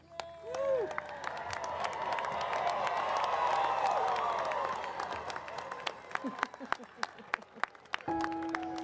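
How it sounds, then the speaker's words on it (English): A commencement crowd at a 2022 college school of engineering ceremony gives graduates a loud, sustained round of applause and cheering that swells and then thins, with voices heard briefly near the start and end. "as we offer one final rousing round of applause for our graduates"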